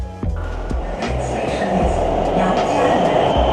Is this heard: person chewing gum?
no